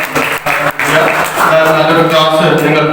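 An audience at a college felicitation camp gives sustained applause to welcome a speaker onto the stage. The clapping runs steadily throughout while a voice talks over it through an amplified system.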